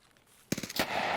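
Gunfire in the video game Escape from Tarkov: after a quiet lead-in, a rapid burst of automatic shots cracks out, loud and close, followed by a sustained noisy tail.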